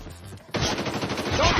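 Rapid gunfire in Call of Duty Mobile bursts in suddenly and continues as a close, loud stream of shots.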